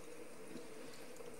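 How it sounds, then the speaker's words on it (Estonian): Room-temperature water pours steadily from a tap into a one-litre jug of blood powder while making homemade blood sausage, a soft continuous gushing and filling sound, faint and unbroken. "liitrises kannus on verepulber ja siia ma lisan nüüd siis toa sooja vett"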